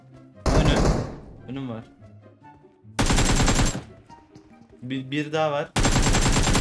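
Automatic rifle fire in PUBG Mobile, loud sustained bursts arriving in three separate volleys, with players talking between the bursts.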